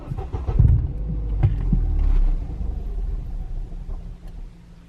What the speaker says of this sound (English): if we were to start the car, just watch the revs.